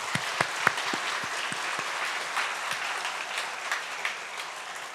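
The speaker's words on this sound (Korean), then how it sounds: "오늘 살아계신 하나님께 영광의 박수하십시다." A church congregation breaks into applause during a Sunday worship service: a few sharp individual claps at first, then a continuous moderate wash of clapping from the crowd, with no speech over it.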